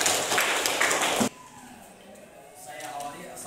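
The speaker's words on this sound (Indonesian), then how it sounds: "Tepuk tangan untuk kelompok kinestetik." A classroom group at a teaching workshop gets a short burst of applause that stops abruptly after about a second, leaving a quiet room with faint speech.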